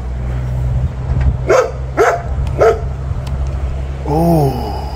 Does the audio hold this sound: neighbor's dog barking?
yes